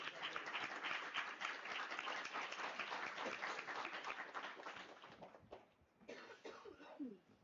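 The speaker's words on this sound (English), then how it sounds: "Let's first give a round of applause to Danny Nanuj Weiswald" A round of applause from a health governance gathering fills most of the stretch, steady and dense, then thins out into scattered claps and a few coughs and throat clearings near the end.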